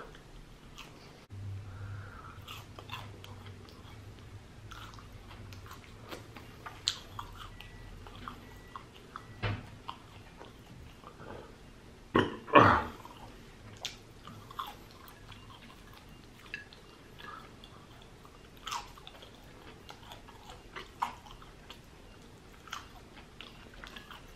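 Arby's fries being chewed up close, with soft, irregular mouth sounds and small crunches and one louder bite midway through, all quiet and without talking.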